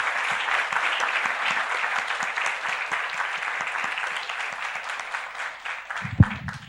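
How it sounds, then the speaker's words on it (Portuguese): A church congregation applauds during an evening service, dense steady clapping filling the space for several seconds before tapering off, with a brief thump near the end. "Quantos nessa noite vão aplaudir o nosso Deus?"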